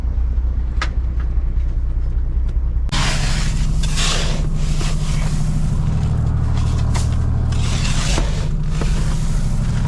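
A commercial fishing boat on a black cod trip motors along with a loud, steady low engine drone. Partway through, the drone gets louder and rougher, with bursts of rushing hiss above it, and no one speaks.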